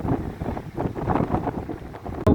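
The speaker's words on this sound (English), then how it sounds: "Oh, it's so nice to have the wind behind us." Wind gusting across the microphone on a coastal walk near Margate, uneven rumbling buffets rising and falling, ending in a sharp loud blast.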